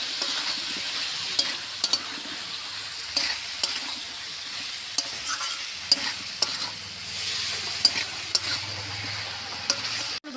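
Pointed gourd, potato and pumpkin curry being sautéed in a pan, a continuous soft sizzle with occasional scraping spoon strokes, close and steady.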